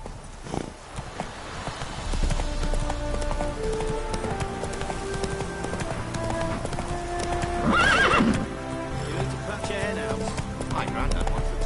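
Roach, the horse in The Witcher 3, gallops in a fast, even clip-clop of hooves with a whinny partway through, and low game music and voices run underneath.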